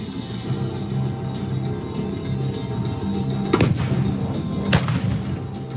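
A Leopard tank firing its main gun at an M60 tank, two sharp, loud cracks a little over a second apart over a steady low engine rumble and background murmur.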